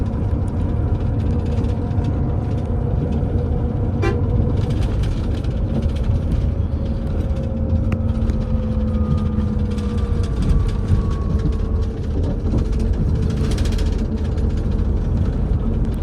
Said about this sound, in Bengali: ট্রেনটার নাম এখনও দেখতে পাচ্ছি না মেবি পদ্মা এক্সপ্রেস ঢাকা রাজশাহীগামী